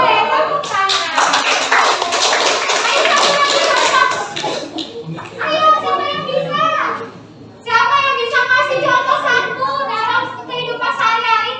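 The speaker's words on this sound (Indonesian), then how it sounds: "Boleh tepuk tangan." A group of children in a school classroom lesson breaks into a burst of hand clapping lasting a few seconds, followed by lively children's voices and chatter close by.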